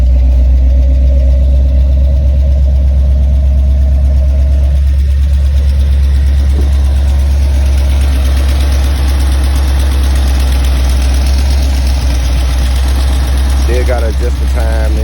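A backyard-installed engine with new mufflers and a poorly running carburetor idles loud and close, with a deep, steady rumble throughout, as someone talks over it.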